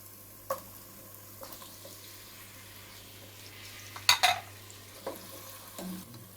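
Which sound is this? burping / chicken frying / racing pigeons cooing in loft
chicken frying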